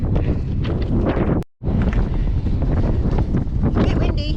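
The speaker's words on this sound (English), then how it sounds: "It's a bit windy." Strong wind blowing across a Lake District mountainside during a 100 km ultra race, a loud continuous buffeting roar with one brief dropout midway.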